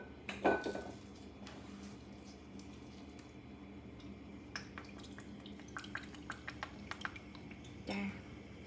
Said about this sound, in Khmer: យើងកូរឲ្យសព្វទៅណាពេលដែលយើងថែមគ្រឿងអីយើងកូរឲ្យសព្វ